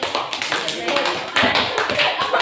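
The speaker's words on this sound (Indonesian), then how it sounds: "Tepuk tangan." Hand clapping in a school classroom, a group of students clapping in quick, somewhat irregular bursts, close and loud, with voices mixed in among the claps.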